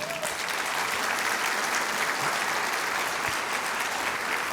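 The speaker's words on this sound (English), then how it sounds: "Special round of applause for the chair." Steady, dense applause from a convention audience honoring the acting chair of the National Endowment for the Arts, a continuous wash of many hands clapping at even loudness throughout with no pause.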